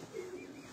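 Breeder flying pigeons from Gujrat, a single soft low coo rising briefly and fading, faint against quiet background noise.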